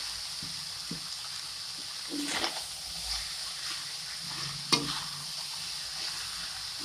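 Cabbage rice being stirred in a pan, with faint scraping and light sizzling over a steady background hiss and a sharp clink partway through.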